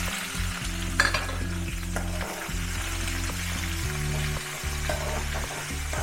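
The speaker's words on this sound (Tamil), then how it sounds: "கார சட்னிக்காக நான் இதை வறுத்துக்கிறேன்" Dried chillies, dals, two cloves of garlic and onion fry in a pan for spicy chutney, giving a continuous close sizzle broken by stirring scrapes, with a steady low hum beneath and no talking.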